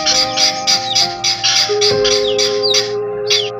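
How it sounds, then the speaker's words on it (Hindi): Chukar partridges call loudly in a rapid series of harsh, repeated squawks, about a dozen bursts in quick rhythm, close by, over a faint steady tonal hum. "हमारी चकोरे जो है वो आवाजें दे रही हैं ऊंची ऊंची"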